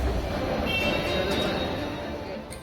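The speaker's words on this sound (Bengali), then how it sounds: "ফাইনালি এই মেট্রোটা আসলো।" A metro train arrives at a station at dusk with a continuous rolling rumble and a faint high whine from the rails. It holds steady, then eases off slightly toward the end.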